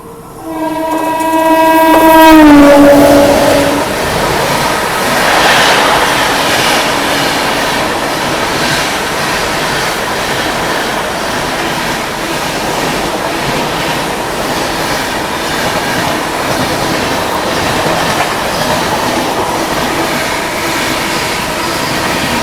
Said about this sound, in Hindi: तो भाई साहब पैरेलल बढ़िया ओवरटेक करके गई है अभी मुंबई राजधानी।